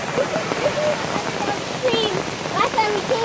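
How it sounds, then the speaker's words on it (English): Rain falls outside a cabin as a steady, dense patter and hiss, close and continuous, with faint voices underneath. "It is raining."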